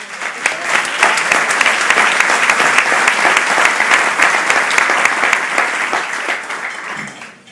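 An audience breaks into sustained, loud applause after a speech, a dense and even wash of many hands clapping that tapers off at the very end.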